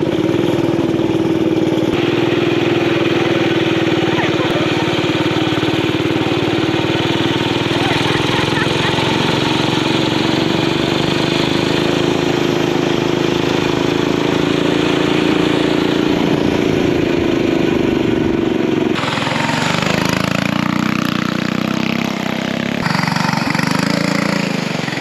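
Coleman mini bike engine running hard with two riders aboard, a loud, steady small-engine drone that holds close and continuous, shifting and roughening near the end.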